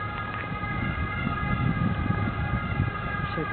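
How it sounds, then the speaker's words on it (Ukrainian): A steady, multi-toned ambulance siren wailing at moderate distance over low rumbling background noise, continuous throughout, heard from a seafront promenade in Formia, Italy. "швидка допомога"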